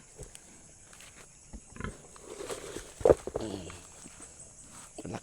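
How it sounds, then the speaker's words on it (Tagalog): A pet pig snuffles and grunts at its feeding trough, with scattered thumps, shuffling steps and one louder grunt midway, faint and close amid quiet surroundings. "Yan ang baboy ko guys oh. Baboy dik, gutom ka na dik. Ito yung kainan niya."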